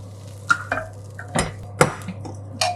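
A ladle stirs fried tempering into spinach dal in a pot, giving a few sharp, irregular metal clanks and scrapes against a quiet kitchen background.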